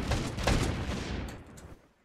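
Heavy autocannon fed from drum magazines in the Stormworks sandbox game, firing a short rapid burst of loud, booming shots that roll together and then fade out.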